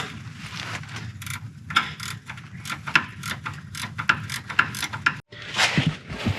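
A wrench ratchets on transmission mount bolts, a series of quick metallic clicks in irregular bursts, close and fairly quiet, with a brief pause before a final run.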